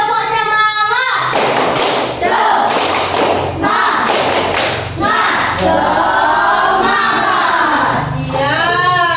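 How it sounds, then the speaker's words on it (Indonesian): A group of Indonesian children doing a 'tepuk semangat' spirit clap, chanting loudly together while clapping and thumping in rhythmic bursts, voices rising and falling with the beat. "Sekarang coba Ojes pimpin temannya untuk tepuk semangat."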